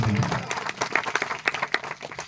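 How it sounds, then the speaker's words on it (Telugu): A congregation claps loudly at a Christmas celebration in church, a brisk burst of many hands with sharp irregular claps that taper slightly toward the end. "గట్టిగా చప్పట్లు కొడితే దేవుని మహిమపడతాం."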